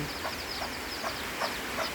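Several chickens cluck in short repeated bursts, close by, over a constant background hiss.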